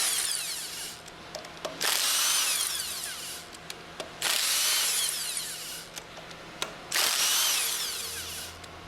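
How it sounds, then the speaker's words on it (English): An impact wrench fitted with a 10mm hex drive runs in three long bursts, taking out the retaining bolts on a General Pump HF packing stack. Each loud, close whir has short clicks and pauses between bursts. "Use the impact wrench with a 10mm hex drive attached to remove the remaining 6"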